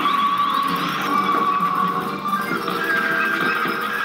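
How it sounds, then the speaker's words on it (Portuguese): A wailing ambulance siren rings out loud and continuous in an arcade video game on a multi-game cartridge machine, with steady game sounds behind it. "Olha a ambulância,"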